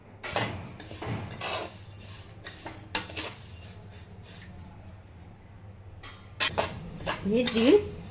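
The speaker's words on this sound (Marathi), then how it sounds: "हे तीळ चांगले फुलेपर्यंत आपण भाजून घ्यायचे। ते चांगले तडातडा वाजतात फुलायला लागले की।" Sesame seeds roasting in a hot pan for sesame ladoos, with bursts of clattering and scraping as a spoon stirs against the pan, quiet gaps between, and a faint crackle underneath.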